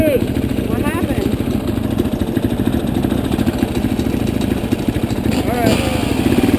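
A motorbike engine runs loud and close with a steady throbbing pulse as it is revved, continuing without pause, and voices can be heard over it.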